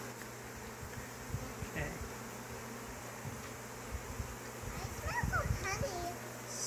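Honey bees buzz steadily around an open hive during an inspection, a dense drone running throughout with a brief spoken word over it.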